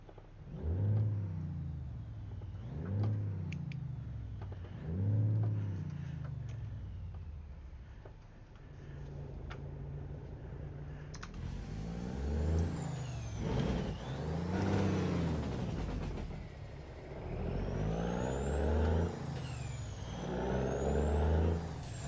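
A Detroit diesel engine in a big rig within a trucking video game, revving up and easing off in repeated surges, each rise climbing then falling, with hissing air-brake-like releases between pulls.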